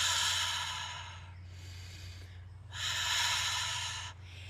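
Ujjayi-style yoga breathing with a raspy sound at the back of the throat, two long audible breath cycles, each a drawn-in hiss followed by a breathy release, close and fairly loud over a low hum.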